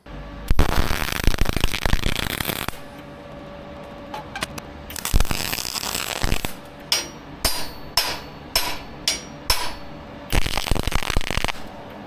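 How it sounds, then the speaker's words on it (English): Welding on a steel finger press brake build comes in three loud crackling bursts of a couple of seconds each, separated by quieter gaps and a run of sharp metallic clicks and taps, with no talking. "we're gonna move on to the next step, which I believe is some more welding"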